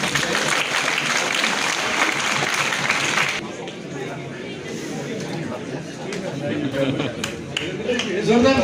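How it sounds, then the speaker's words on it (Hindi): Loud applause from an audience at an International Women's Day celebration in a government degree college hall. Dense clapping fills the first few seconds, then thins into a murmur of chatter and scattered claps. "एडवोकेट संजय रैना साहब को भी जोरदार तालियां बजा दें।"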